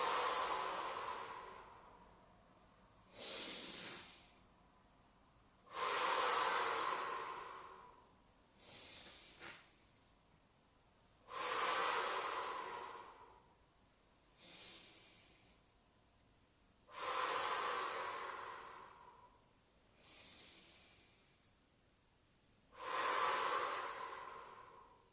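Steady, deliberate breathing during a Pilates roll-back exercise: slow airy inhales and exhales alternate in a regular cycle, about ten breaths close to the mic with quiet gaps between, and no talking.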